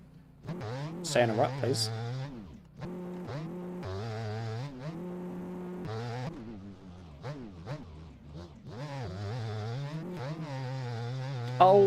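A 500 two-stroke motocross bike in MX Bikes revs hard and close, its buzzing engine pitch swooping up and down through repeated throttle bursts and gear changes, while someone talks over it.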